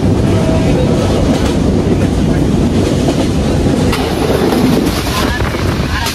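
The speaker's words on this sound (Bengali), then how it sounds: "রাজশাহী থেকে ঢাকা অভিমুখী আন্তনগর ধূমকেতু এক্সপ্রেস ট্রেনটি কিছুক্ষণের মধ্যে ঢাকার উদ্দেশ্যে ছেড়ে যাবে" Dhumketu Express intercity train running from Rajshahi toward Dhaka, a steady loud rumble of wheels and carriage with wind noise throughout, heard from on board.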